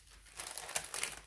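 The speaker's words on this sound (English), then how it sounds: "a baking foil, because I need to laminate my coaster" Thin baking foil is crumpled in the hands for laminating a coaster, a short burst of crisp, close crinkling lasting about a second.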